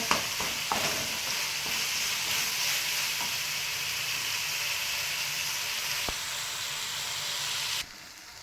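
Curry leaves fry in hot oil in a pan for a palya, giving a steady bright sizzle with a few faint stirring clicks, close and continuous before it suddenly quietens near the end.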